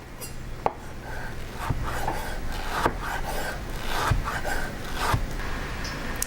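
Knife slicing through fruit on a cutting board for a Hawaiian rainbow slaw, with a steady run of close, soft scraping and chopping strokes and a few sharper taps of the blade hitting the board.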